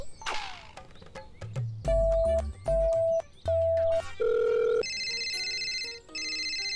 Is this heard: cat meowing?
no